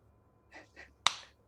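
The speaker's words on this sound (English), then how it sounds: "All it took was one hand clap." One sharp hand clap rings out alone after two soft breathy sounds in a quiet room.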